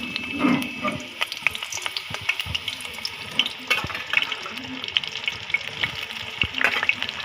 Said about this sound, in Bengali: পেঁয়াজটাকে নরম করে নিচ্ছি